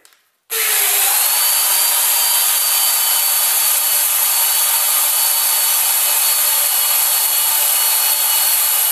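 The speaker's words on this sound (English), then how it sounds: "so you just put yourself a 3/16 drill bit on there and just make sure the diameter of the hole will fit the new rivets." Power drill with a 3/16 bit boring out a rivet hole on a keyboard tray, starting abruptly after a moment of quiet and then running as a loud, steady high whine without a break.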